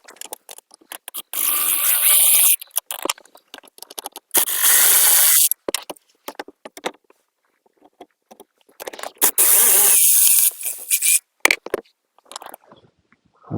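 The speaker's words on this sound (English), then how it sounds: "we have three T20s, one here, and one here. We got to take those out" A driver unfastens three T20 screws from the cabin filter cover of a Mercedes S550 W222, several close, loud bursts of ratcheting clicks separated by quiet pauses and small handling knocks.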